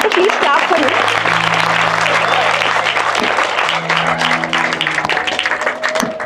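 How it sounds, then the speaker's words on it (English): Loud, sustained applause from an audience at a talk on UPSC exam preparation, fills the clip with steady clapping over a low background hum. "Please clap for him."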